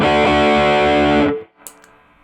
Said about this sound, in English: Go the bass all the way down again. And that's like getting into that kind of like cool filter sound.